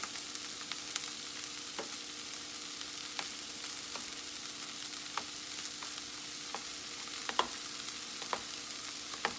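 Sautéed pepper and onion stirred in a pan give a quiet, steady sizzle punctuated by sharp clicks and taps of a utensil against the pan, fairly faint and with no voices.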